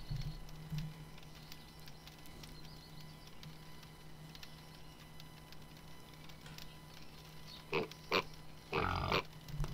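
Pigs at a feeding trough in the fantasy video game Balrum grunt in a few brief bursts near the end, after a stretch of quiet ambient hum.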